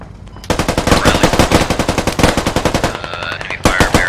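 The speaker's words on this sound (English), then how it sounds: "Heavy fire, Barry." Heavy automatic gunfire in the Squad video game: rapid, continuous machine-gun bursts at a steady rhythm, loud and close, with a brief lull before firing resumes.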